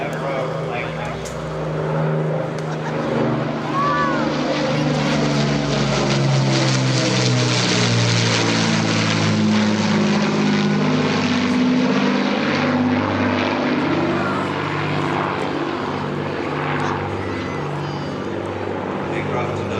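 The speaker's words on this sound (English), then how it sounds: "Memorial flight Avro, Lancaster." An Avro Lancaster bomber of the Memorial Flight passes overhead on its four propeller engines, a loud, steady droning roar that swells and shifts pitch as it goes by, with a voice talking over it.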